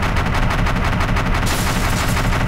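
Machine gun firing at cars in the driving game BeamNG.drive: a loud, continuous rapid burst of shots that saturates the sound and runs unbroken throughout, with no talk.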